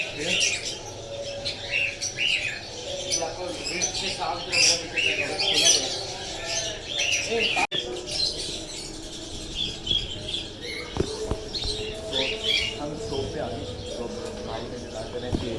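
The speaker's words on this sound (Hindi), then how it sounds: "इनके पास भी बहुत से परिंदे पड़े हैं, देख सकते हैं आप।" Many birds squawk and chirp together in a bird shop at a Multan market, a dense busy chorus of calls throughout, with people talking in the background.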